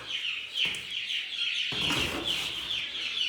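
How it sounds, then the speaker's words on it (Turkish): Repeated high, thin chirps from a chick kept in a box, with a rustling scuffle partway through and continuous peeping throughout. "Şöyle bahsettiğim civcivimiz"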